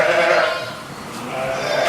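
Sheep and a newborn lamb bleat inside a lambing shed at an agricultural college, a steady close bleat running through the whole stretch with another voice briefly overlapping.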